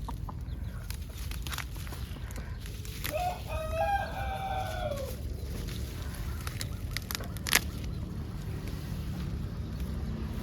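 A rooster crows once in a rising then falling call, with a few clucks and a sharp knock nearby, over steady low rumbling background noise.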